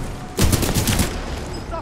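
A rapid burst from an LMG light machine gun fitted with an ACOG scope in Titanfall 2, a quick run of loud, close shots lasting under a second, then fading into background game noise.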